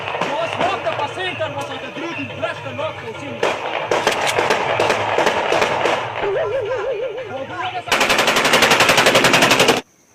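Sustained bursts of rapid gunfire crackle and rattle, dense and loud, ending in an intense continuous volley before cutting to silence, with voices and warbling effects mixed in.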